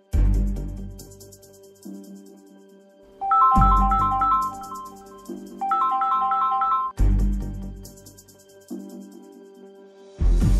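A phone ringtone plays a repeating electronic melody in bursts, chiming notes rising and falling, loud and close with brief pauses between phrases.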